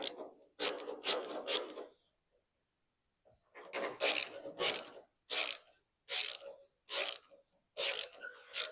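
A thread-chasing tool is worked through the bolt threads where a fender part bolts into the hood of a 1970 Dodge Charger under restoration, giving close, dry rasping scrapes in short repeated strokes with a pause in the middle.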